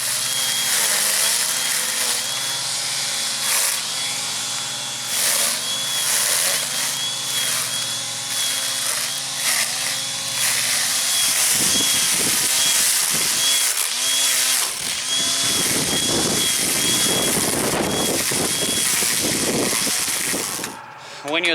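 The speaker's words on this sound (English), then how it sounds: "I guess the last thing left to do is just to see it, what it does in action." A cordless string grass trimmer with a spinning line head whines steadily up close, then bogs and sputters in rough bursts as it cuts into weeds.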